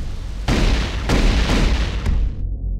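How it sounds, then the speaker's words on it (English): A plasma rifle fires in a video game: several punchy energy blasts, loud and close, spaced roughly half a second apart with a dense booming tail, cutting off abruptly at the end. "Plasma rifle. Plasma rifle."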